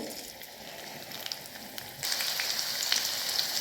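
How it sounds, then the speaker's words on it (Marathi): Crushed garlic goes into hot oil in a kadai, and a quieter background gives way to a loud, steady crackling sizzle that continues close-up to the end. "तेल गरम झालं आहे लगेच आपण त्याच्यामध्ये बारीक ठेचलेली लसूण घालायचे"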